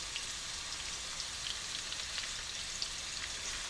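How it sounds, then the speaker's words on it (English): Pot roast sears in a hot pan with a steady, dense sizzle, close and continuous throughout with no talk over it. "Now while it's searing on that side"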